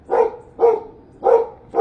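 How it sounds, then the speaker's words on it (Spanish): A dog barks loudly and close by, four separate barks spaced at an even rhythm with brief silences between them. "si se escucha muy fuerte su ladrido del perro"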